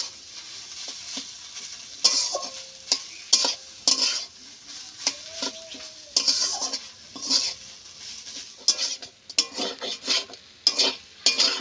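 A paneer and potato filling stirred and fried in a pan, with repeated scraping spoon strokes against metal over a soft sizzle, irregular bursts close and fairly loud.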